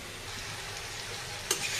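Potato and eggplant sautéing over a high flame for a Bengali fish curry give off a steady close sizzle, with one sharp utensil scrape near the end.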